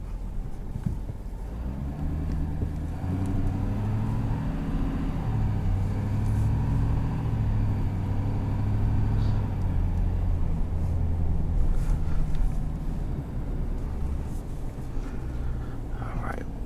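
Low, steady engine and road drone inside a 2022 Ford F-350 XLT Powerstroke truck as it drives, constant and moderately quiet, with someone talking now and then.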